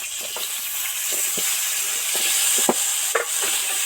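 Continuous hiss and sizzle as potatoes fry in hot oil, with a few clinks and scrapes from a utensil.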